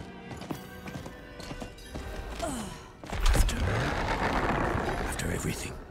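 Horse mount hooves in Diablo 4, a clip-clop of hoofbeats that grows louder after a quieter stretch, with a short whinny and dense game ambience layered around it.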